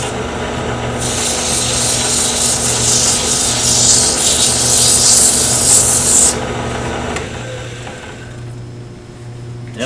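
Wood being turned on a lathe to shape a bottle stopper, a steady abrasive rubbing and scraping hiss over a constant low motor hum, loud and close, easing off near the end.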